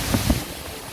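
Strong storm wind and rain roar in a steady, close rush for under a second, with blustery gusts buffeting the microphone and no voices heard.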